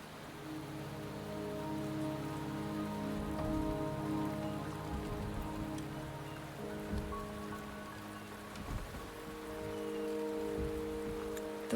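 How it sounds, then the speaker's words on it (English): Steady rain falling on surfaces in the video game Wuthering Waves, a dense continuous patter of drops under soft layered ambient tones, with no voices. "The rain is subsiding, and the sky will soon clear."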